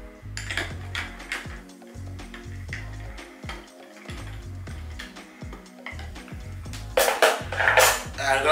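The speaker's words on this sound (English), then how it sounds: "A nice stir." A spoon stirs an absinthe highball topped with ginger ale in a glass with ice, giving a rhythmic clinking and rattling of ice against the glass, followed by a louder fizzy burst near the end.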